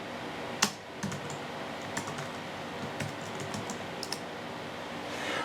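Someone types a command on a computer keyboard beside a Raspberry Pi 5 with an active cooler, a few quick, close clicks of keys over a constant fan hiss.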